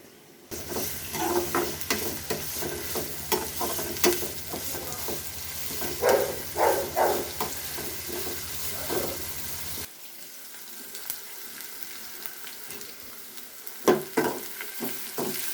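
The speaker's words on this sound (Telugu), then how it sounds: "ఆనియన్ బాగా ఫ్రై అయిపోయింది" Onions fry in a pan with a soft, steady sizzle while a utensil scrapes and stirs them in repeated bursts. The sizzle quiets after about ten seconds, then brief stirring returns.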